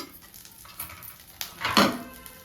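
Curry leaves hit hot tempering oil that already holds golden-browned urad dal and garlic, for a mango dal. A soft hiss swells into a brief louder sizzle, with a faint stir and scrape of a spoon, close by and without talk.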